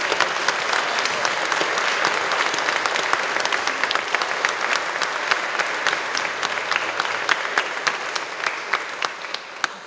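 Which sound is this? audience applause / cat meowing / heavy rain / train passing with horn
audience applause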